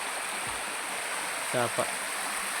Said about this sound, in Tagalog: Sapa na dito mga tol.